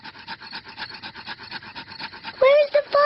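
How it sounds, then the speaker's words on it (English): Two sticks rubbed together to light a campfire in a cartoon scene make a quick series of rhythmic scraping strokes, close and moderately loud, followed by a brief voiced sound at the end. "Daddy Pig is rubbing the two sticks together to light the campfire."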